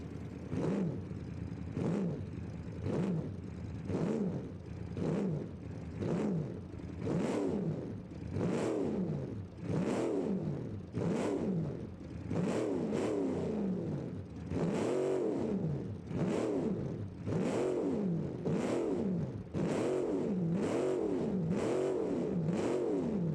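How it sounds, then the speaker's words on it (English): A crawler car's engine in the BeamNG driving game revs in steady repeated bursts, rising and falling roughly every second, loud and continuous with no talk. "And this engine does sound amazing"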